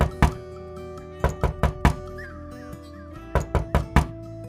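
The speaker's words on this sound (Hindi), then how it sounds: "अपनी मां के घर पहुंचकर उसने दरवाजा खटखटाया।" Knocking on a house door at night in a spooky comedy story, in two quick groups of raps, four then four, sharp and close over a faint sustained musical background.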